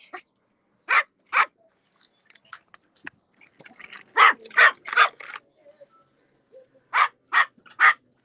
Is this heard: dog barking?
yes